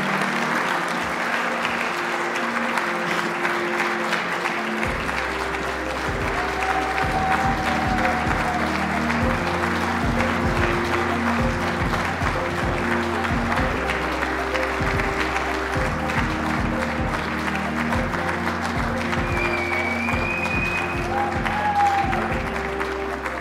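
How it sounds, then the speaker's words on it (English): A crowd at an award ceremony applauds the recipient of the Norm Taylor Award, with sustained clapping from many people over a low, steady musical tone that runs beneath it for most of the stretch. "Let's give him a nice round of applause."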